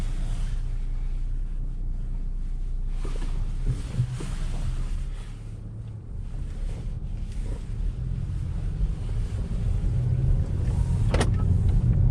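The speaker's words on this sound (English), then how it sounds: "let's go ahead and take it on a test drive and see how the car is" A Honda Accord (2018–2021) on a test drive after a spark plug change, heard from inside: steady low engine and road rumble with wind noise, a faint rise near the end, no talk.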